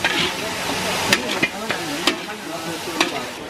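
Pork ribs stir-fry in a large pan for a Nung ethnic wedding feast, with a steady sizzle and irregular metallic scrapes and clanks of a spatula close by.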